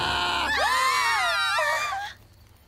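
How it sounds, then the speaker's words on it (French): A woman screams in an animated French children's horse series: one loud, wavering, high cry lasting about a second and a half before it cuts off sharply. "Elle se met à crier."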